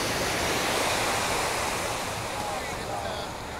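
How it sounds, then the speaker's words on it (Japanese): Ocean waves wash steadily onto a Hawaiian shore, a dense continuous roar of surf with some wind, close and fairly loud throughout with no speech. "この波の音を聞いてボーっとすんのもこれはこれで結構いいんじゃないでしょうか"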